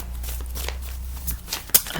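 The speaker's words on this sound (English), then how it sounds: "So we'll just shuffle the cards" Tarot cards being shuffled by hand, a soft papery riffling and rustle running steadily over two seconds with a few sharper flicks near the end, close and fairly quiet.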